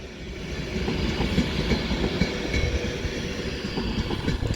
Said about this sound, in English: is now off with the 1352 Avanti West Coast service to London Euston via Birmingham New Street